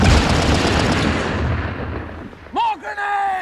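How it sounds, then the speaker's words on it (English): Machine gun fire rattles in a World War I trench battle scene, a loud, dense burst that fades out, followed by someone shouting. "Those fools, they're right under those machine guns."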